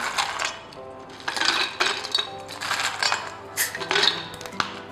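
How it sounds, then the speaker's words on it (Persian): Ice cubes clink and rattle into a glass of homemade ginger summer drink with lemon juice, a run of bright, close clatters and taps across the whole stretch, with no talking over it. "من حالا یه مقدار یخ بهش اضافه میکنم."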